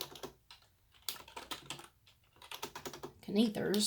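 Quick bursts of keystrokes clatter on a computer keyboard in irregular runs and pauses, close and fairly quiet, with a person speaking intermittently in between.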